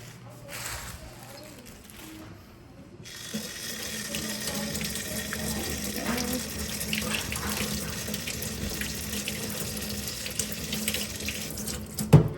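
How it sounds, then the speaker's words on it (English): Kitchen sink tap running as tomatoes and green mustard are rinsed, a steady splashing water stream starting after a quiet moment and continuing close by, with a clatter at the end. "I'm just gonna take this to the sink, give it a quick rinse, and then chop it up"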